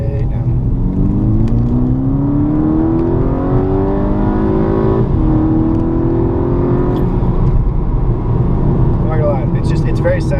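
A 2014 VW GTI Wolfsburg Edition accelerates hard, its engine note climbing steadily through a gear before a brief dip and another rise. The roar is loud and continuous, heard from inside the car.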